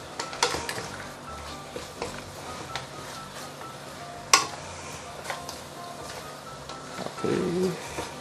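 Five spice powder fries with pork leg in a pan, a faint steady sizzle with scattered light ticks and utensil scrapes, closing in a brief louder stir of the pan.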